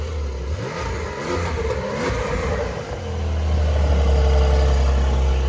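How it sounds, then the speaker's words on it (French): A modern Porsche 911 Carrera 4S turbo engine revs in several quick bursts, then drops into a deep, rumbling idle that swells louder, heard up close with no talking. "a une sonorité de folie pour un moteur turbo."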